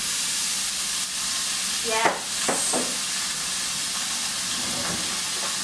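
Ground meat for tacos hits a hot, fully warmed pan and sizzles steadily with a bright, continuous hiss, with a few clatters of stirring and a brief spoken word over it.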